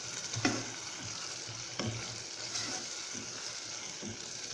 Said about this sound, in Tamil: இஞ்சி பூண்டுடைய பச்சை வாசனை, அது வந்துட்டு போகிற வரைக்கும் மட்டும் நல்லா கொஞ்சம் கலரி விடுங்க